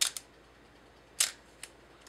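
An Olympus camera shutter firing at a one-second exposure: a sharp opening click, a quiet second-long gap, then a closing click, each followed by a fainter mechanical tick, close and crisp with no talking.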